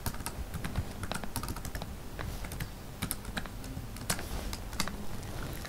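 Someone types a password on a computer keyboard: a run of quick, irregular key clicks close by, with no voices.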